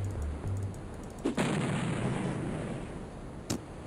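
A grenade blast in a video game, with one muffled boom and a rumbling tail, then a second sharp burst a couple of seconds later, heard alone without talk.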